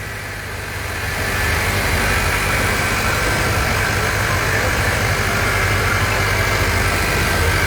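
A car's 1500cc turbo engine runs at a steady idle in a showroom, giving a loud, close, continuous hum and rumble that swells in the first second and then holds even.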